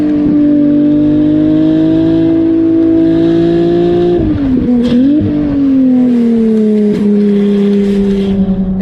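A Ferrari 296 twin-turbo hybrid engine with small quick-spooling turbos and an electric fill-in motor pulls hard, its loud rising tone dipping briefly through a gear change midway before climbing again, with no talking.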